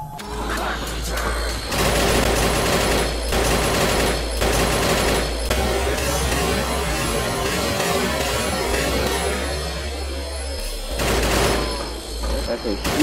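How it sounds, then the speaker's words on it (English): Heavy rapid-fire gunfire from a large weapon in a Roblox game, repeated bursts of dense crackling shots, loud and continuous for most of the stretch, with a low steady hum underneath. "That's a huge weapon shot for them."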